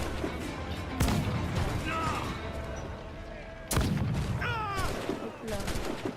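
Naval cannons fire in an Assassin's Creed game, two sharp heavy blasts about three seconds apart, with crashing debris and battle noise between them.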